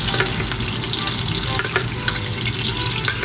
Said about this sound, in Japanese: 後半戦焼いていきましょう。